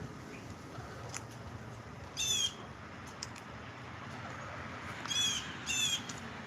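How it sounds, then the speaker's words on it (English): Birds call outdoors over a steady background hiss, giving a few short, bright chirping bursts spaced apart, one early and two close together near the end. "You hear the birds?"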